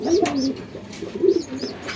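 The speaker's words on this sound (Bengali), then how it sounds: "জ্বালালি কবুতর মনে হইতাছে" A rock pigeon coos close by, giving two soft, throaty phrases about a second apart against a quiet background.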